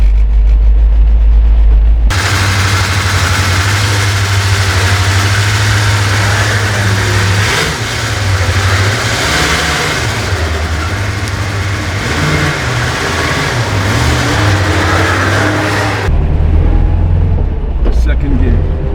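A 1977 Toyota Celica engine runs steadily while driving, with a loud sustained low hum that rises and falls in pitch as the throttle changes, ongoing throughout under occasional voices.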